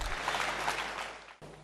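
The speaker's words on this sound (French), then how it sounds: "Applaudissons pour Jésus une fois de plus." A congregation at a church service claps together in a brief burst of applause, a short dense patter that tapers off and is cut, then resumes faintly.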